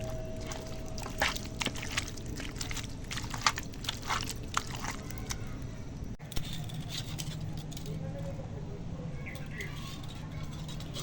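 Chicken pieces are worked by hand into a bowl of ground mixed spices, producing close, wet squelching and patting sounds in irregular bursts over a steady low background hum.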